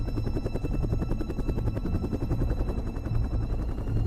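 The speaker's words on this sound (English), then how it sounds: "A drone flies overhead." A drone flies overhead carrying a tank in a Hunger Games arena, a loud, steady, rapidly pulsing rotor drone that stays close and constant throughout with no voices.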